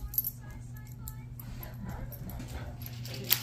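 A dog whimpers and yips for a treat inside a truck camper on a windy night, soft whines over a steady low engine-like hum, with a brief sharp sound near the end.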